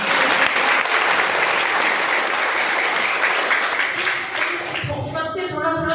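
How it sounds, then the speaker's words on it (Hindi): Audience applause fills the space, dense and steady clapping for several seconds before thinning out as a voice begins to speak at the end. "तालियां बजा दो भाई।"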